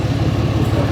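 A truck engine idles steadily at close range, a continuous low rumble with a faint rhythmic pulse and no voices over it.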